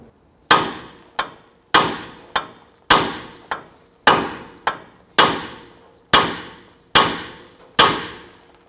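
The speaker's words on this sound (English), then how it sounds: "I'm going to use a hammer. I'm going to strike the knuckle here." A hammer strikes the steel steering knuckle of a 2005-2021 Nissan Frontier to free the outer tie rod end, giving about a dozen loud, sharp metallic blows in an uneven rhythm, each ringing briefly before the next.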